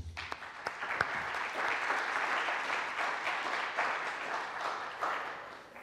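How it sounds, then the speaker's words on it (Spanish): A lecture audience gives a welcoming round of applause to speakers at a talk on language, a full, even burst of clapping that swells and then slowly tapers toward the end. "les voy a pedir un aplauso de bienvenida"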